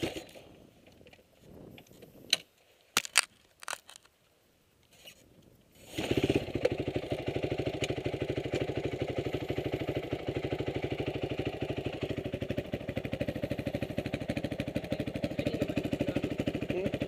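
A motorcycle fitted with a full Yoshimura exhaust idles steadily and loudly after about six seconds of near-quiet broken by a few clicks and knocks.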